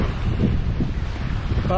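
At Batu Ferringhi beach on Penang, steady wind buffets the microphone over the low wash of waves, a loud, rough roar with no break.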